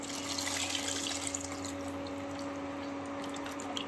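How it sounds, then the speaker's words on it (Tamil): Tamarind water poured into a simmering fish curry, a steady close liquid pouring and bubbling wash with faint drips, continuous and alone for about four seconds. "இப்போ புளி ஊற்றிக்கலாம்"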